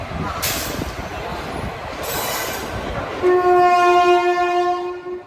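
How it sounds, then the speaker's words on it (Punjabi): The New Delhi–Varanasi Mahamana Express pulls into a station in Varanasi with rumbling and rail noise, then a loud, sustained horn blares close by over the clatter. "ਗੱਡੀ ਆ ਗਈ ਹੈ"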